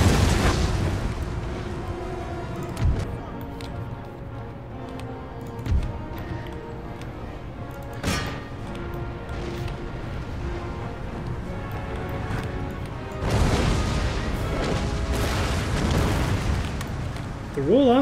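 Artillery howitzers firing quicklime shells in an Empire: Total War battle at a bridge, heavy booms and bursts rolling through a dense battlefield din, with stronger blasts near the start, middle and end and someone talking over it.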